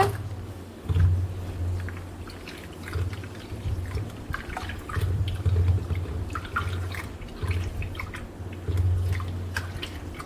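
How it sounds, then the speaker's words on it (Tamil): Water sloshes and trickles as barnyard millet and lentils are swirled and rubbed by hand in a bowl, with a low steady hum underneath. "தண்ணி ஊற்றி இதை நல்லா இப்போ கழுவுங்க"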